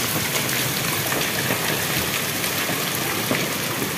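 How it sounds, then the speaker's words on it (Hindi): Steady, dense downpour of heavy rain with hail in a storm, hissing loudly and continuously, pounding surfaces with no pauses. "देखिए बारिश किस टाइप से भयानक बारिश हो रहा है"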